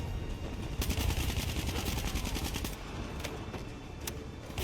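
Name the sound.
gunfire in video game Call of Duty: Black Ops 3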